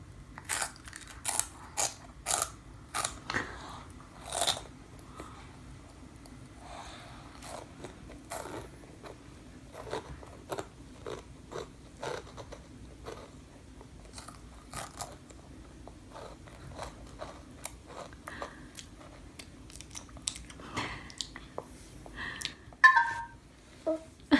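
Crunchy onion ring snacks being bitten and chewed up close, with a steady run of sharp crisp crunches and rustling packaging at varying intervals, quiet overall and without speech.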